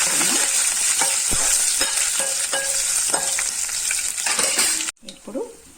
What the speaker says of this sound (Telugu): ఆవాలు, తెల్లగడ్డలు, కొంచెం కరివేపాకు, ఎండుమిర్చి, ఇవన్నీ బాగా ఫ్రై చేసుకున్నాం.